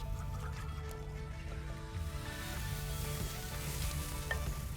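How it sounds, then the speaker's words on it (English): Oysters with butter sizzling on a grill, a steady close frying hiss with faint crackles and drips running throughout. "You got butter in there, so it's gonna flare up a little bit on you."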